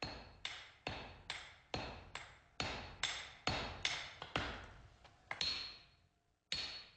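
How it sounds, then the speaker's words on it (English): Steady metallic hammer blows on steel while forging a katana blade, about a dozen ringing strikes at a regular rhythm, each with a bright decaying ring, close and loud. "the steel is strengthened by hammering"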